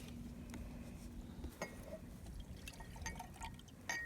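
Half a cup of hydrogen peroxide pours into a jar for an elephant toothpaste experiment, a soft, faint trickle with a few light glassy clinks and drips, close by in a quiet room.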